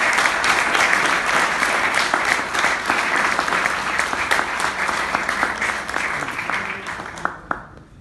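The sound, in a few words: audience applause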